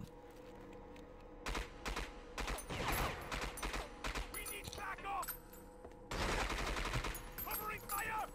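Gunfire from the video game 007 Agent Under Fire rattles out in loud, rapid automatic bursts, a long stretch of shooting followed by a pause and another heavy volley, with in-game mechanical clicks between shots.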